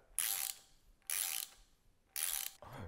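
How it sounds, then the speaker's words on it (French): A small ratchet tightening a socket on the engine of a Peugeot 206 stage 3 gives three distinct bursts of clicking, each about a third of a second, close up and crisp with short pauses between. "je prends mon petit cliquet BTR et je viens serrer mon joint spi"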